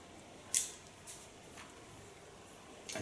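Scissors point cutting hair for a sliced bob haircut, with one sharp close snip followed by a few fainter snips against a quiet background.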